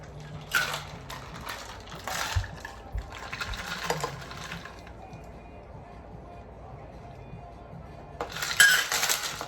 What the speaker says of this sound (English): So I'm gonna strain this out into the glass.